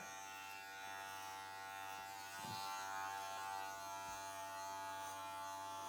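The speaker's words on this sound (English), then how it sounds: "we're raising the clipper out on that curve, so we're not going straight right back up the back of the head" An electric hair clipper cutting a men's crew cut, a steady close buzzing hum with slight shifts as it moves over the head, alone without talk.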